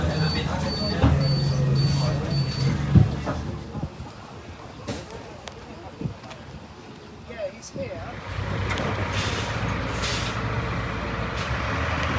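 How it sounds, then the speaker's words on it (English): ADL Enviro 200 bus running with its doors open, a close air-brake hiss and release amid steady engine hum and cabin rattles. "This was an ADL Enviro 200, the same one I've been on twice before in this video already."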